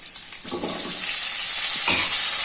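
Baby onions dropped into a hot tempering of mustard seeds, urad dal and asafoetida, giving a close, rising sizzle with a couple of soft clattering stirs.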